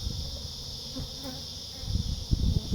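A steady high buzz of many honey bees in a container, constant and fairly close, with some low bumping and handling noises toward the end.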